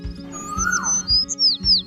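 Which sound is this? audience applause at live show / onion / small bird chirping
small bird chirping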